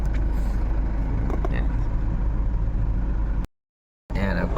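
Steady traffic rumbles past on a highway beside a Jollibee parking spot in Santa Rosa, Nueva Ecija, a continuous low engine drone with a brief dropout, while someone talks over it.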